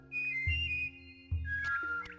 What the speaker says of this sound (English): So I think this is the longest whistling puzzle we'll have, the most complicated one